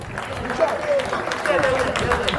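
Audience clapping at the official opening of the Isiobi Ndigbo Foundation of Nigeria, a dense steady patter of many hands lasting throughout, with crowd voices mixed in beneath.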